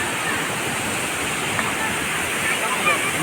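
The tallest waterfall in North Bengal, at Kolakham, roars as a loud, constant broadband rush of falling water, steady and close with no breaks.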